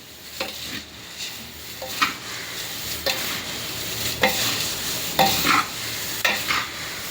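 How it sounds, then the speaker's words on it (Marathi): A fried thin-poha chivda mixture with curry leaves, chili and turmeric masala is stirred in a pan, each scrape of the spoon sounding a sharp rhythmic stroke over a continuous soft sizzle, close and clear. "आणि हे जे तळलेले सगळं आहे मसाला हा छान मिक्स करून घ्यायचा आहे"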